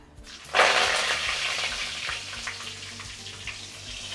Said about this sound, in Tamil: கொஞ்சமாக கருவேப்பிலை அலசி வச்சுருக்கேன் அது இதில் சேர்த்துக்கிறேன்